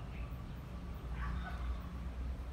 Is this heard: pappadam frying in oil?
no